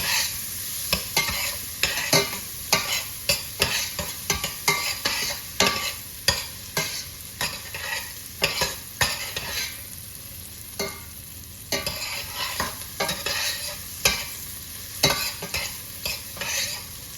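Chopped vegetables sauté in a pan in a home kitchen, sizzling steadily while being tossed and stirred in a quick, repeated rhythm of scraping shuffles, close and clear with no talking.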